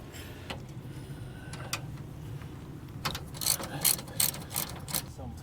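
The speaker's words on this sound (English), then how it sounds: "I'm going to take this bolt out and the bolt in the back" Ratcheting clicks from a wrench backing out 9/16 inch bolts on a slide-out gear pack under a vehicle, quiet at first, then a burst of rapid close clicks over low background hum.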